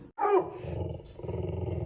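A cold, cranky dog growls low and rumbling, close by, in a continuous grumble with a brief louder onset and a short pause before it resumes.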